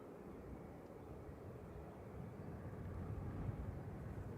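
An airliner departs Manchester Airport for Casablanca as a faint, distant, steady jet rumble that swells slowly over a few seconds.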